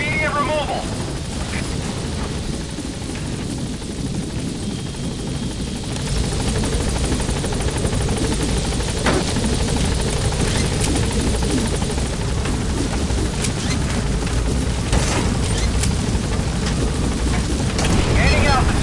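The Pequod helicopter in Metal Gear Solid 5 lifts off with a loud, continuous rotor roar and engine whine that swells slightly as it climbs, with radio-style voices talking over it.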